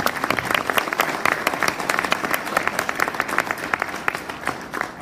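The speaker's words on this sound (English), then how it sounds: "Give him a nice round of applause." An audience at a district assembly applauds a speaker taking the stage: steady, dense hand clapping from a sizeable crowd, fairly close and continuous throughout.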